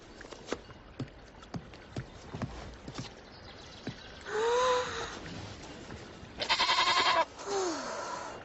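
A goat bleats twice in loud, wavering cries after a stretch of clip-clopping hoof-like knocks, the second bleat longer and harsher, close and without talk.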